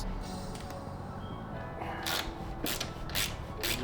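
A ratchet wrench clicks as bolts are loosened to remove the footpegs on an Aprilia RS660 motorcycle, sounding as a few short, crisp mechanical ratcheting bursts close by, fairly quiet.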